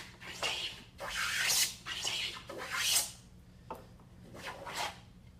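A hand plane shaves a thumbnail profile along the edge of a wooden tabletop, giving a series of six or seven rasping, scraping strokes in an uneven rhythm, close and moderately soft over a faint low hum.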